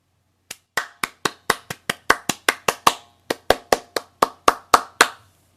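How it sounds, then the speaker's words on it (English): A pair of hands claps sharply and crisply about nineteen times in a steady, lively rhythm, each clap distinct and close, with a brief pause midway and nothing else audible. "You heard the sound of hands clapping."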